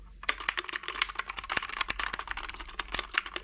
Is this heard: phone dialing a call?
no